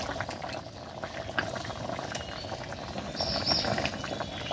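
Jackfruit curry simmering in a pot, a soft, continuous bubbling and gurgling with faint pops, quiet and close, with no voices.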